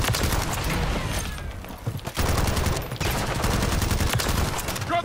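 Rapid bursts of automatic gunfire in the game Modern Warfare 3 crack almost continuously, broken by a brief lull, loud and close with a faint voice beneath.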